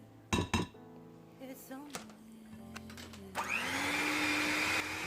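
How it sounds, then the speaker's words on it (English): Cream cheese being mixed with an electric mixer, opening with a few clinks of a bowl and utensils before the motor starts and whirs steadily and loudly to the end. "I'll go ahead and mix up the cream cheese until everything is well incorporated"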